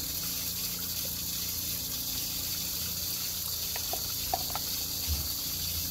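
Hot water running from a tap, a steady, faint hiss of flowing water held at an even level, with a few small clicks and knocks near the end.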